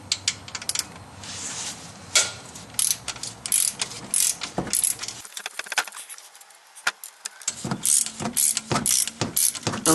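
A ratchet with a 16mm socket loosens the bottom retaining bolt of the alternator bracket on a 2008 Dodge Avenger, giving close, rapid clicking in uneven bursts with a brief pause midway and no talking.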